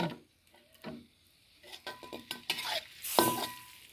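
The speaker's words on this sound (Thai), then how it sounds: "เคี่ยวกะทิให้ขึ้นมันก่อนนะคะทุกคน" Coconut milk simmers in a pan for a Thai panang pork curry, stirred with scraping, sloshing strokes that come in uneven bursts, with a soft bubbling sizzle underneath and no voices.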